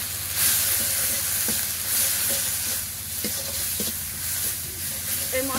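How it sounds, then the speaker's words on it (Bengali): A paste of ground cumin and green chili with turmeric powder and salt sizzles steadily in hot oil in a pan, village-style cooking, with stirring scrapes running through and no talk. "এই মশলাটা একটু হালকা ভাজা ভাজা হলে"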